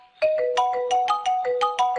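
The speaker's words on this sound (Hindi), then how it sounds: "हॉस्पिटल से फोन" Phone ringtone playing a bright repeating melodic tone pattern, loud and close, a call coming in from a hospital, with no talking over it.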